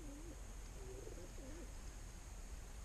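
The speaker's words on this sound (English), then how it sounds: "Oh, these are pigeons." Pigeons coo softly in a few short, rolling phrases outdoors on a hike at Devils Lake, set against a steady hiss of background noise, with no voices.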